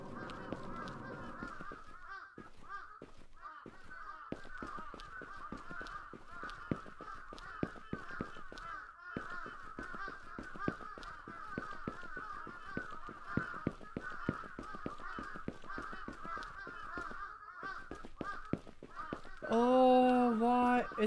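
A bird in the horror game Akai Onna honks repeatedly in a steady, rasping run that persists throughout while chasing the player, ending in a louder, clearer burst of honks.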